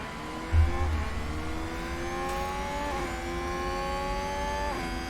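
Race car engine in the F1 Manager 2022 video game, revving in a steady climbing whine that steps up through gear shifts, continuous and even in level from start to finish.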